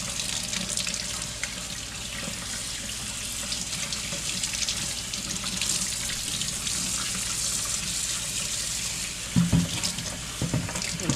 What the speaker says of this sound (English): Wash all this dust off of it.